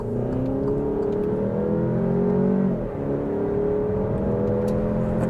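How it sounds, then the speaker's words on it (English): An Alfa Romeo Stelvio Veloce engine pulls hard under acceleration, a steady loud rising growl heard from inside the car, with a brief dip at a gear change before climbing again. "Listen to the engine."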